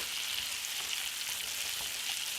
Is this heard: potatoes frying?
yes